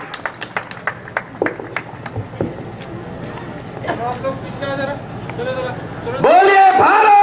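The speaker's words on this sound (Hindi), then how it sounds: "जोरदार तालियों से करतल ध्वनि से स्वागत करने की कृपा करेंगे" Audience clapping welcomes a speaker at an Akhil Bharatiya Janjati Suraksha Manch event, heard as sparse, irregular claps over crowd murmur and background noise, then a nearby voice starts speaking at the end.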